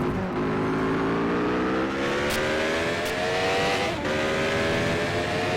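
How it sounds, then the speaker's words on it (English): A 1988 CART Indy-style race car engine at the Budweiser/G.I. Joe's 200 runs steadily and loudly in high-revving tones, with small pitch shifts as it works through the gears near turn 7 and the back straight. "We can also hear when riding on board with Richard here the difference in the engine notes"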